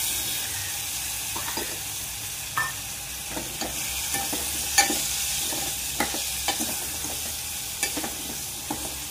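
Drumstick pods sautéed in a pan give a constant soft sizzle, broken by repeated scraping clacks of a spatula stirring at an irregular pace, close up and without speech.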